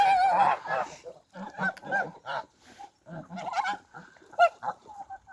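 Geese, chickens, ducks and turkeys call out while eating breakfast in a farmyard, with loud honking and squawking bursts that come close together and stop and start irregularly.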